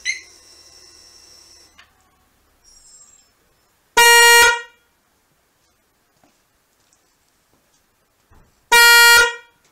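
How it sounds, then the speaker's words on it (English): Aftermarket horn wired onto a Harley-Davidson Sport Glide motorcycle sounds two loud, close, blaring blasts about five seconds apart, with quiet handling noise between them. "just put the wires in just to see if the horn is louder."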